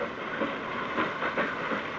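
A night mail train runs along the tracks with a steady rolling rumble and rhythmic clicking of wheels over rail joints, heard from inside a first-class compartment, moderately loud and continuous with no talk.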